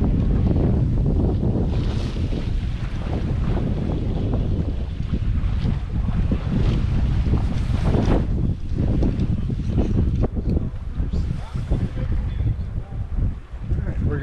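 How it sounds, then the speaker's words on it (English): Bristol 32 sailboat running downwind in choppy water, wind rushing loudly across the microphone with waves slapping and washing against the hull throughout, a steady close roar with occasional surges. "We're doing some downwind sailing"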